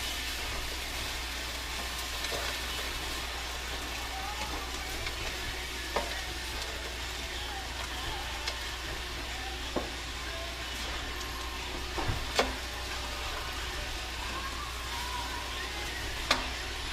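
Ingredients stirred together in a hot pan, a steady sizzle of frying with occasional clicks and scrapes of a utensil against the pan, continuous and moderately loud.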